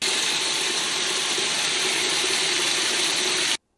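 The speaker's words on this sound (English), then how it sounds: "the white noise from the water entering the washing machine" A steady hiss of water rushing into a washing machine pours in continuously, like a broad white noise, then cuts off abruptly.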